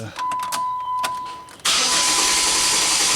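Dodge Nitro with a misfire cranking in clear flood mode, accelerator pressed to the floor: a short burst of starter whir, then the engine catches into a loud, steady running roar that fills the rest of the moment.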